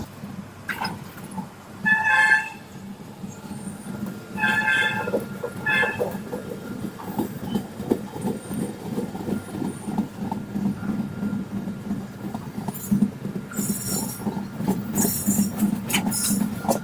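The 08582 SMVT Bengaluru–Visakhapatnam Express rolls along the rails with a steady low rumble and rhythmic wheel clatter, broken by several brighter bursts of noise, heard from on board.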